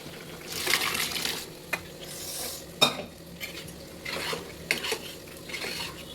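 Sambar is stirred in a metal pot, a ladle scraping and clinking against the sides in irregular strokes over a soft bubbling sizzle, close and fairly quiet.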